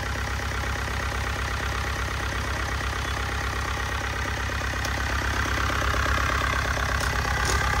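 A Yanmar 4TNV84 turbo diesel engine idles steadily and close by with an even, low mechanical clatter, its smooth drone holding at a constant level throughout with no talking.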